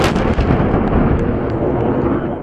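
F-16 airstrikes hitting shelters, weapon positions and ammunition depots: a loud, continuous blast rumble with a sharp onset that rolls on and slowly fades, with no voices.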